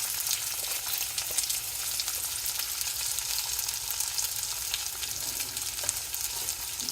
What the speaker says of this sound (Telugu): పచ్చిమిరపకాయలు అయినాక ఉల్లి తెల్లగడ్డలు వేయాలి తర్వాత ఎర్రగడ్డలు వేయండి